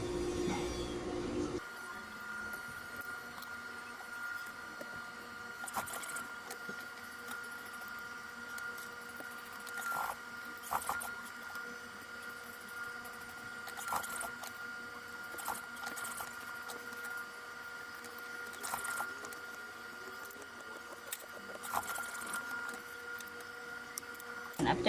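A sewing machine stitches a decorative throw pillow with a continuous whirring, clattering run that pulses slightly and goes on throughout, while a person talks over it.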